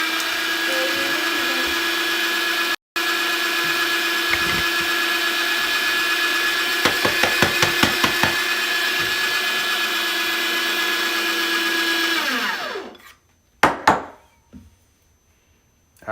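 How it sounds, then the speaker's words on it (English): Niche Zero or Breville Smart Grinder Pro coffee grinder grinding a few beans, a loud steady motorized whir with a brief rapid crackle of beans, running about twelve seconds before winding down, followed by a couple of clacks. "I'm going to just throw in a couple beans in the hopper and grind them"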